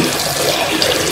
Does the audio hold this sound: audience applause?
no